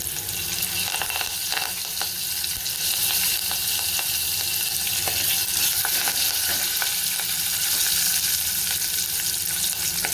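Asafoetida and curry leaves sizzle in hot oil for a dal tempering, a loud, dense, continuous crackle and hiss close up, with occasional stirring clicks and no voices.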